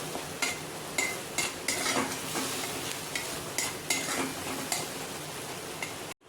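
Turmeric being stirred into a roasted spice paste in a pan, with repeated scraping strokes of a spoon over a steady sizzle of frying.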